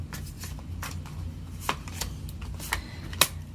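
Tarot cards shuffled by hand in a quiet room, a series of soft riffling flicks and taps with a sharper snap near the end.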